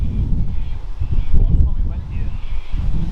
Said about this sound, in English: Far out, it's windy.